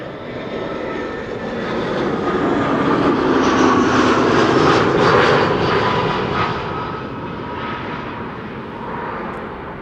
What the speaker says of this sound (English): we are going to see a Dreamliner from KLM. arriving from Atlanta, Georgia.